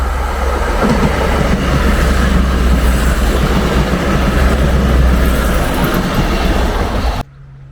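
A passenger train roars past Middlewood station without stopping, heading for Buxton, a loud continuous rumble with rattling wheels that cuts off abruptly near the end.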